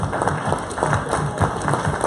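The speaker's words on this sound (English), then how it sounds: "Give him a round of applause." An audience at a real estate company summit claps and cheers, a muffled, continuous wash of applause heard from within the crowd.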